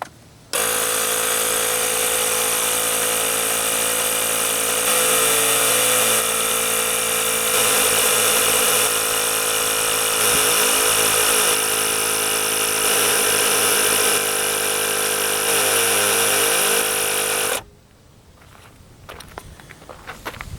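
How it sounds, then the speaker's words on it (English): A Ryobi P731 18V ONE+ cordless inflator compressor runs steadily and loudly while pumping a tire back up toward 30 PSI, a constant buzzing drone that cuts off abruptly near the end, leaving faint background noise. "I'm going to flip the rocker switch. It will turn the compressor on, and you should watch the tire fill up."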